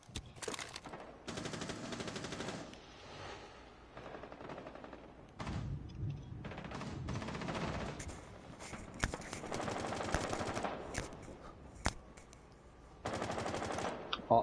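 A shooter video game fires repeated loud bursts of automatic gunfire with sharp single shots between them. The bursts come in quick succession with brief gaps across the whole stretch.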